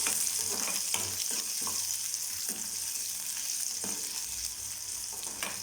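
Onions, including small shallots, sauté in a pan for a Chinese potato stir-fry, giving a constant moderate sizzle with repeated scraping and clinks of a spatula stirring through them.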